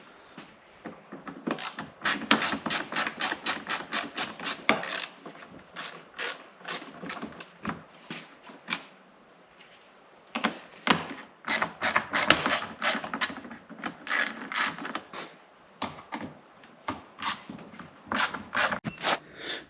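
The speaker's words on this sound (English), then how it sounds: "now I'll be taking these torque head bolts out" Ratchet wrench on a Jeep Wrangler JLU spare tire mount, loosening size 25 torque head bolts: rapid bursts of close, crisp clicking strokes repeated in runs with short pauses between, no talking.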